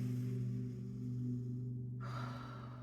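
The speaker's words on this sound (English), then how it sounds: "and we'll take an inhale and an exhale" One slow, deep yoga breath, a long airy inhale followed by a release, heard close over a steady low background hum.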